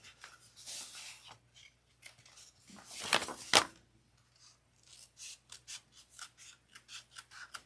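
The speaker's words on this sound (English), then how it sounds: "Trimming this excess off." Scissors trimming excess material off a sewn piece, quiet close snips and sliding cuts in uneven bursts, with a louder run of crisp cuts midway and a rapid series of small snips afterward, no speech.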